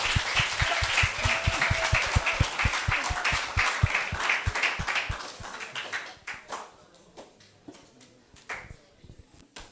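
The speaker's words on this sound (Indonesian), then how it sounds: "Tepuk tangan sekali lagi." Students applaud at a school talk show, a mix of dense clapping and distinct individual claps up close that thins out into scattered, fading hand claps toward the end.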